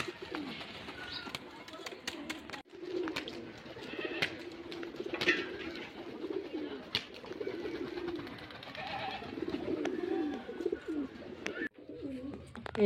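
Soft throaty cooing of racing pigeons kept for sale, several birds murmuring continuously at close range with faint rustles and thumps, steady and fairly low in level throughout.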